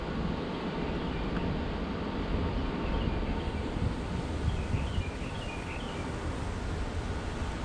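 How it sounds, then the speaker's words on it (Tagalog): Strong wind blows through trees during bad weather in Saudi Arabia, making a constant loud roaring rush with rustling leaves and gusty buffeting on the microphone, and no one speaking. "So malakas talaga yung hangin yun."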